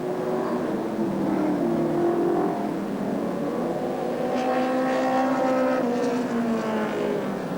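Race cars at Alexandra Speedway during a 1985 100-lap race, engines roaring continuously from a mid distance, with rising and falling revs as several cars pass, including a Corvette.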